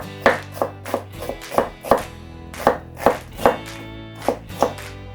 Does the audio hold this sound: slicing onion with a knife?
yes